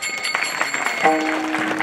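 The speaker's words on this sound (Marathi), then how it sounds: "टाळ्या वाजवा यांच्यासाठी." Brief applause for the singers at a Varkari kirtan gathering, dense clapping from an audience mixed with a steady tonal drone and a held note partway through, short and fairly loud.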